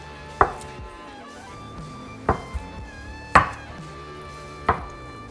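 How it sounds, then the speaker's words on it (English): A knife chops through a block of Spam on a cutting board, giving four sharp, separate thuds spaced about a second apart, close and clear against a quiet kitchen with no talking. "let's cut it this way."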